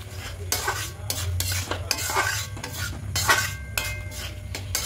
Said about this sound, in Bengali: দিয়ে খুব ভালো করে মিশিয়ে নেব।